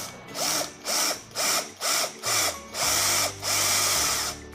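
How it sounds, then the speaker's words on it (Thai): An electric drill bores a hole into the motor mount of an old hard disk, whining in six short, loud, evenly spaced bursts before running in two longer stretches, heard up close with no voices. "ผมก็จะเจาะตรงนี้"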